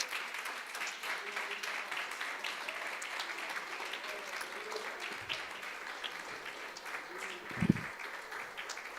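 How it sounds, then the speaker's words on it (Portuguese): Church congregation applauding during a worship service, a steady dense wash of clapping that holds for the whole stretch at moderate volume, with a brief louder thump near the end. "Dê uma linda salva de palmas"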